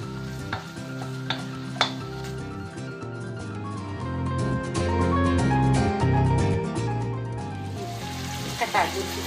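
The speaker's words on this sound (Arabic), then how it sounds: "غادي نضيف عليها الفلفلة على بحال هاد الشكل، نشحرها على عافية تكون متوسطة" Bell peppers sizzle and are stirred in a hot pan for chicken and seafood paella, a close, steady frying hiss with scraping stirs and a few light clinks.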